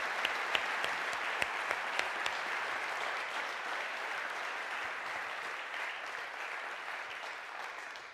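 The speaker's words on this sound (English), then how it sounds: "You want to give a round of applause to the men here?" Audience applause at a coaches' gathering in Nashville, a steady wash of clapping from a crowd with a few sharp nearby claps early on, fading slightly toward the end.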